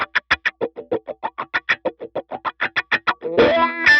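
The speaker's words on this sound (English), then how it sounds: "that's my number 3 favorite effect, is the wah effect" Guitar played through a wah effect on a Line 6 Helix: a steady run of about twenty evenly spaced plucked notes, each tone sweeping, ending in a louder sustained distorted chord.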